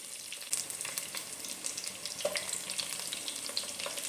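Garlic and curry leaves fry in hot oil with a dense, even crackle and frequent sharp pops, close and steady throughout, with no voices.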